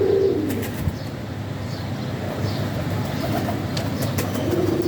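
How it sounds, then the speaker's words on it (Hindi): Soft, low pigeon coos roll on steadily over a constant background murmur, with a few faint chirps higher up. "बड़ा मज़ेदार कबूतर है जी"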